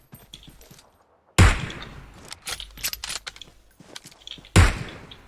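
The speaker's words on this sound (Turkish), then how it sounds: "Arabanın lastiklerini patlatıyorum." Gunfire in PUBG Mobile on the Erangel map shoots out a car's tires: two loud, sharp bursts separated by a scatter of quieter rapid shots and thuds, close and punchy against near silence.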